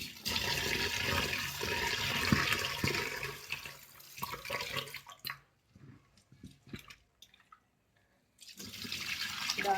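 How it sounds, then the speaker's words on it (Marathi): Lentils are washed by hand in water, with splashing and sloshing close by, then quieter drips and trickles during a pause before the swishing starts again. "डाळ पण आपल्याला 2 पाण्याने स्वच्छ धुवून घ्यायची"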